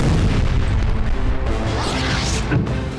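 Explosions from a Russian missile and drone strike in Ukraine come through as loud, heavy rumbling booms with crashing debris. The noise is continuous and dense, with sharper bursts standing out midway.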